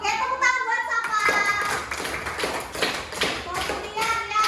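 A class of children claps together in a quick, loose rhythm of bursts, with young voices chattering through the applause.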